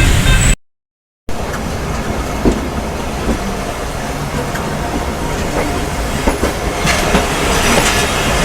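A train rolls into Raiwind Junction station with a steady, loud rumble of wheels and carriages, faint clicks and rattles over the track, and a short silent gap near the start.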